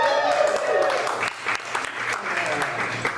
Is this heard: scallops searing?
no